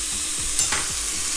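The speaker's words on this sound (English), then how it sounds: "Listen to that sizzle." Fresh garlic and paprika frying in a pan, a loud steady hiss of sizzling oil with light stirring scrapes, continuous and close with no talking.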